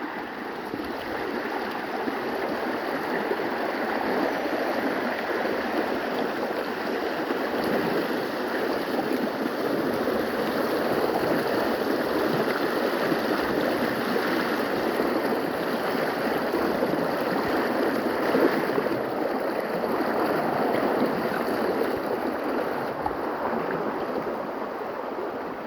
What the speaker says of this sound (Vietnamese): Rồi nước suối chảy mạnh.